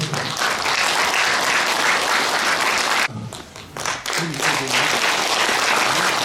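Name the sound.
audience applause welcoming a speaker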